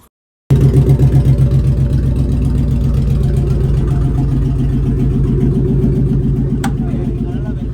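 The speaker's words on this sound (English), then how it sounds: "That's why it sounds like an exhaust leak under the cab." An OBS Ford truck engine idles loudly close by with a rough, rapid ticking and puffing rhythm from an exhaust leak under the cab, straight-piped in place of the catalytic converter, running steadily throughout.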